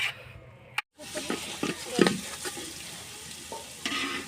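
Onions frying in oil in a pot on a village clay stove while biryani is started, giving a crackling sizzle with occasional stirring knocks, close and moderate, after a brief silent break near the start.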